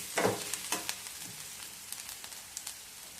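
Ingredients for a spicy shevga batata curry of drumstick and potato are dry-roasted in a pan, giving a quiet crackling sizzle with a few sharper ticks and stirring scrapes near the start.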